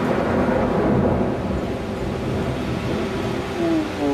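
Thunder rumbles long and low during heavy rain in Antalya, a broad continuous roll over the steady hiss of downpour on a wet balcony.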